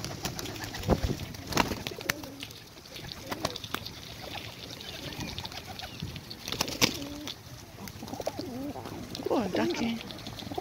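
Pigeons cooing while feeding among ducks and grey geese outdoors, a soft repeated low coo rising through the second half over steady rustling, wing flaps and scattered clicks, with a voice heard in the background.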